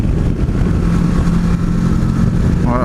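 A 2017 Kawasaki Versys 650 motorcycle riding on a road in France, its engine a steady loud drone with broad wind rush throughout, no pauses or speech.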